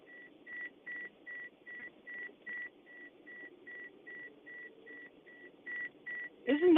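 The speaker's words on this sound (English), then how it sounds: "Isn't that beeping annoying?" Beeping inside a house: a steady series of short, evenly spaced electronic beeps, about two or three per second, faint, ending with a brief louder noise.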